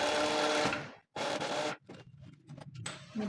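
A sewing machine stitching the pocket lining of an asymmetric jacket, running in quick short bursts with abrupt stops and restarts, close and fairly faint, with no talk.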